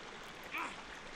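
Flowing water in the Harry Potter and the Prisoner of Azkaban video game: a steady, soft rushing stream with a brief brighter splash midway, heard alone.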